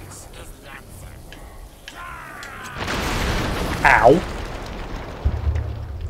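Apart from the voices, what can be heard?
explosion blowing up wood in video game The Darkness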